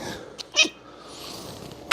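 A cat makes odd, short sounds: a few brief, breathy sneeze-like or snorting bursts separated by quiet pauses, close and fairly soft.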